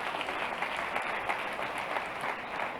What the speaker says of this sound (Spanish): Un aplauso para esa audiencia